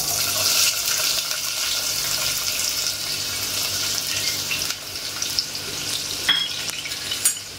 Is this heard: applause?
no